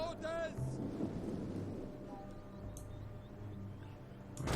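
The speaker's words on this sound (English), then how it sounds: "Oh, because it's raining, that's why." Steady rain and low thunder rumble through a Total War: Rome 2 battle in the Parthia campaign, a continuous wash of storm noise with a brief higher sound near the start and a little talk under it.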